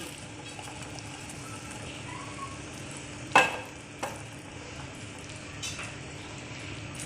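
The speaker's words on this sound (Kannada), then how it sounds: "ಈ ಟೈಮಲ್ಲಿ ನಾನು ಒಗ್ಗರಣೆ ಮಾಡಿದ್ನಲ್ಲ ನೀರುಳ್ಳಿ ಅದು ಇವಾಗ ಹಾಕ್ತಿದ್ದೀನಿ ನೋಡಿ" Onion tempering being poured into Udupi-style fish curry, with a continuous soft sizzle and bubbling and a few sharp clinks or splashes along the way, fairly quiet and steady throughout.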